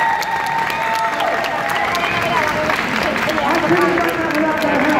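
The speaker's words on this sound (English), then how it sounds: "Give them a clap, everybody." An outdoor street-show audience in Covent Garden, London, claps and cheers for the performer's helpers, lively applause with whoops and crowd voices mixed in throughout.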